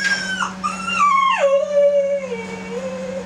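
A small dog whines and howls in a long, wavering, falling cry close to the microphone, with a steady electrical hum underneath.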